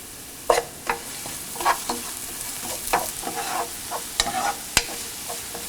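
Onions sautéed with curry leaves and salt sizzle softly in a pan, with repeated scraping stirs of a spoon at an uneven rhythm, close and fairly quiet.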